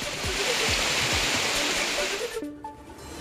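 Floodwater after heavy rain rushes through city drains swollen like a river in Dharashiv, a loud continuous roar of churning water that briefly thins toward the end, with faint voices in the background.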